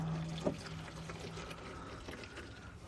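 Engine oil drains from a 2011 Dodge Ram 4x4 1500 into a drain pan, making a faint, steady trickling pour with one small splash near the start.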